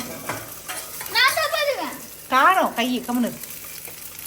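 Shallots and green chillies sauté in hot oil, a soft frying sizzle running beneath a voice that talks over most of the moment.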